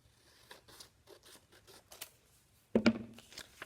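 Scissors cutting a paper square along its crease, a single loud crisp snip-and-crunch after faint soft rustling of paper.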